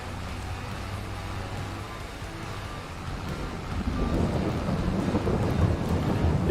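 Steady rain hisses in Farming Simulator 22, and a low rolling thunder rumble swells in about halfway through and grows louder, continuous and enveloping with no speech.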